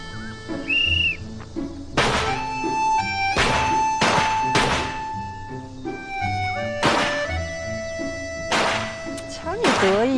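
Gunshots crack at a shooting range during target practice, about eight sharp reports spaced unevenly over ten seconds, each loud and close, with whistling tones and speech between them.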